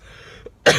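A single sharp cough bursts out near the end after a quiet stretch, close and loud, from a man with a sore throat.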